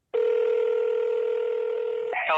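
An outgoing phone call to a Pennsylvania number rings with one steady, continuous electronic tone held for about two seconds, then breaks into a brief, different tone at the end.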